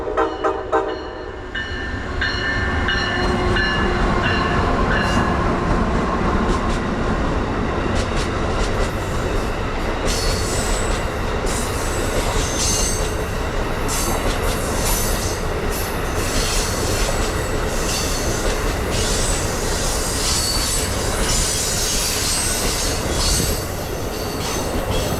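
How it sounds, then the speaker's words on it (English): Amtrak Regional Train 135 runs westbound on Track 2, a steady, loud, close rumble of wheels on rail with high metallic squeals and clattering throughout, no voices. "Here, Amtrak Regional Train 135 trundles westbound on Track 2."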